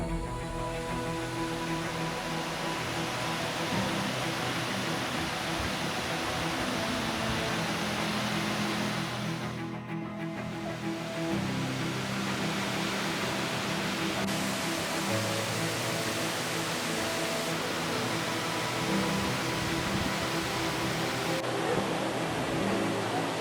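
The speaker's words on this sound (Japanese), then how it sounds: "もうね、滝の音が聞こえてきました。" A waterfall roars steadily in a remote mountain area near Tokachidake hot spring in Biei, Hokkaido, a dense, even rush of broadband noise that fills the whole stretch without pause.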